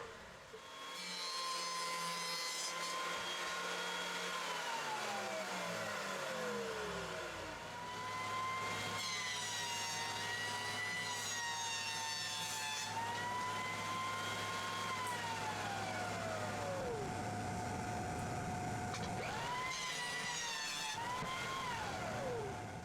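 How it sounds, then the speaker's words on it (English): A thickness planer feeds wood boards through with a loud motor whine that swoops up and down in pitch as each board is cut, heavy and sustained over several passes, with no talking. "This time I'll run on the planer first"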